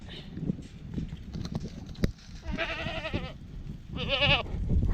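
Goats bleating in a rural paddock: two loud, close, wavering bleats over steady outdoor background noise and some scuffling.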